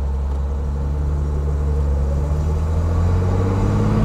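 A 1964 Mercedes-Benz 230 SL Pagode in original condition sets off, its inline-six engine giving a steady low rumble and hum that rises slightly as it moves, heard from inside with no talking.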